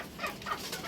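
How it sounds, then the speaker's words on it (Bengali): Free-ranging chickens on a rooftop, including birds of a breed from Barisal, give a few soft, close clucks in quick succession over faint background noise. "এই হচ্ছে আমাদের মুরগিগুলো ছেড়ে পালি ছাদের উপরে"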